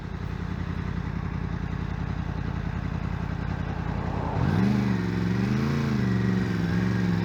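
A Yamaha MT-10 sport motorcycle engine drones steadily while riding, a loud pulsing pound at low revs that rises and wavers in pitch partway through as the throttle changes, over wind noise.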